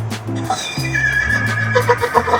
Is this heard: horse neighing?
yes